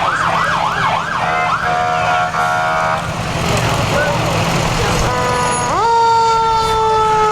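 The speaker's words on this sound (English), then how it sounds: "You can hear the sirens from the ladder truck." A fire department ladder truck's siren at a Fourth of July parade: a wailing, warbling electronic siren, then a rising mechanical wail, loud and close over crowd noise along the street.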